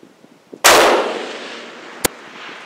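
A single 7mm PRC rifle shot fired at a long-range target, a loud sharp blast with a long rolling decay, followed about a second and a half later by a brief distant crack.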